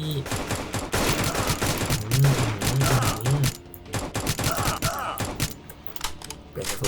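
Rapid gunfire in the Roblox game Mad Road, bursts of close automatic shots rattling in quick succession, fading to sparser shots, with voices talking over parts of it.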